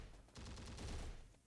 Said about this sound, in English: What a shot from the artillery.